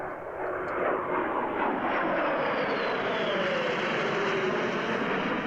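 An F-35 fighter jet flies overhead, a broad continuous roar with a slowly shifting whine, steady and moderately distant, with no voices.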